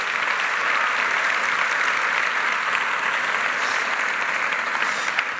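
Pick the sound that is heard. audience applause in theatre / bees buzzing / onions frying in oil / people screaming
audience applause in theatre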